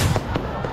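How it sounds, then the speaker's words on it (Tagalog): Firecrackers burst in quick, sharp pops during a fireworks display in Oroquieta, Misamis Occidental, with the explosions crowding close together over a noisy background. "Sa gitna naman ng fireworks display sa Oroqueta, Misamis Occidental, biglang lumipad ang mga paputok sa mga manunood."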